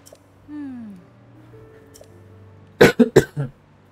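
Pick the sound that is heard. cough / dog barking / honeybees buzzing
cough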